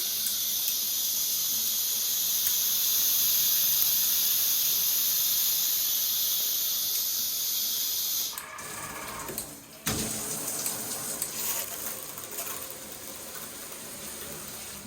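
A shower head's mist spray gives a steady, loud hissing for several seconds, then cuts off, followed by quieter splashing and dripping sounds.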